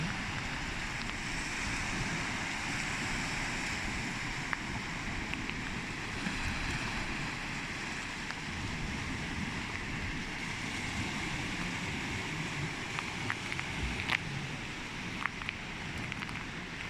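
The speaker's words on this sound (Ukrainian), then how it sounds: "Вечернее море в Лазурном." Evening sea waves at Lazurne wash steadily onto the shore under constant wind, a continuous mid-distance surf with occasional faint clicks and no speech.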